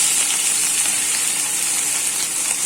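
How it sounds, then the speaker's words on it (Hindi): Turmeric dropped into hot ghee in a pan gives a steady, loud, even sizzle with a bright hiss that holds throughout the whole stretch, with no one talking. "यहाँ पर घी गर्म हो गया है, अभी हल्दी को भी यहाँ पर डाल देते हैं"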